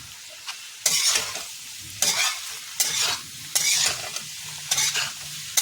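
Mixed vegetable sabji stirred in a pan over a high gas flame, with a steady sizzle broken by five or six loud scraping stirs at regular intervals, close and without talk.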